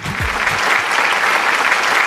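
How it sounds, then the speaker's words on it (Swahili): A studio audience claps steadily at a comedy show, dense continuous applause held at a loud level throughout with no break. "Wapi makofi tena tafadhali."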